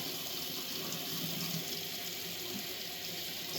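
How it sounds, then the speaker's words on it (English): Water runs steadily from a sink tap during hand scrubbing, a continuous close splashing rush that holds the same level throughout without pauses or talk. "I'm just letting the water run"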